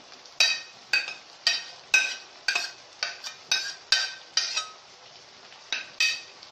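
A spoon scrapes and clinks rhythmically against a pan while chicken, onion and zucchini are stirred, giving about a dozen sharp, evenly spaced metallic strokes, close and clear, with no talking.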